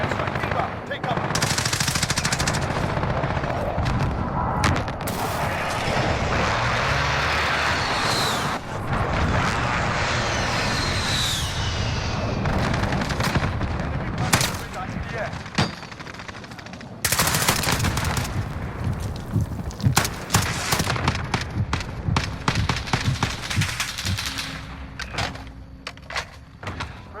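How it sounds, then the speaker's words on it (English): An enemy precision airstrike rips through a Call of Duty Modern Warfare match: loud bursts of rapid gunfire and blasts under aircraft roar, continuous and chaotic, with a sharp surge of impacts partway through. "Enemy precision airstrike inbound."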